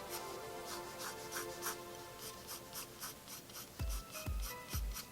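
A pencil sketching guidelines on paper in quick, steady scratchy strokes, then a few soft taps near the end, close and quiet with no voice.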